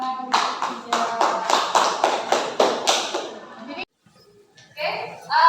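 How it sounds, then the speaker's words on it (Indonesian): Classroom students clapping hands in a quick rhythmic pattern of loud, distinct group claps, stopping abruptly before children's voices chatter briefly afterward. "berikan tepuk tangan untuk Puja"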